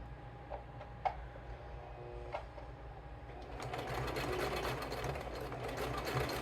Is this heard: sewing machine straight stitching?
yes